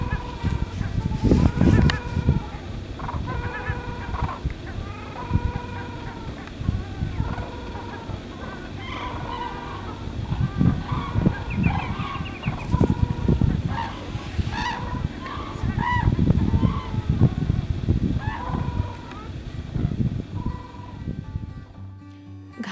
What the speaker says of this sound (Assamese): ইংৰাজীত কোৱা হয় কমন ক্ৰেন বা ইউৰেজিয়ান ক্ৰেন।